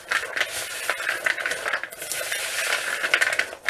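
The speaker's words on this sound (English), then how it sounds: "Give that a bit of a stir around so it all coats all the nuts." Almonds coated with three tablespoons of maple syrup are stirred in a bowl, giving a continuous close run of sticky scraping and clicking as the nuts tumble against each other and the dish, with no voices.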